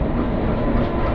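The Yesvantpur–Charlapalli Secunderabad Garib Rath express runs near Moula Ali with an ALCO diesel locomotive, a loud close steady roar of wheels and coaches rumbling along the track.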